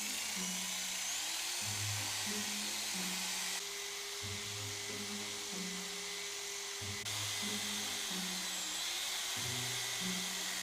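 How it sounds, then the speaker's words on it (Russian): An electric drill fitted with 320-grit sandpaper wrapped around a bit sands the inside of an epoxy resin ring, giving a steady whirring buzz that shifts in pitch as the load changes, close and continuous throughout. "Намотал на самое большое сверло, которое только влазит в дрель, наждачную бумагу 320 номера."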